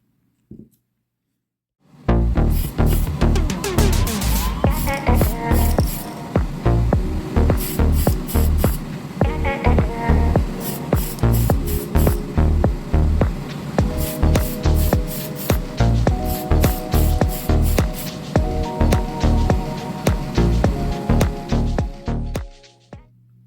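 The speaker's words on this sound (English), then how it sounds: "we're going to use aerosol Tamiya fine surface primer in the white" A Tamiya fine surface white primer aerosol can sprays in a booth onto a Bburago Audi Quattro rally car model, in repeated loud close hissing bursts with brief gaps, steady for about twenty seconds with no talk.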